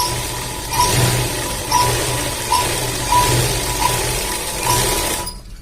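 A sewing machine stitches a pants back pocket in short repeated bursts, about six runs of mechanical whirring with brief pauses between, close and clear with no talking.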